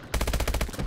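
Rapid automatic gunfire in the video game Call of Duty: Advanced Warfare, a fast, evenly spaced burst of about a dozen sharp shots lasting roughly a second, with no talking.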